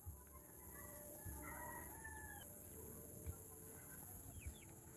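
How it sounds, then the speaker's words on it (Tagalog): Roosters crow repeatedly and chickens cluck at a rural provincial home, close and fairly loud over a steady outdoor background, with no talking. "O yung mga manok."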